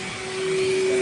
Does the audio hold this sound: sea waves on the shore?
no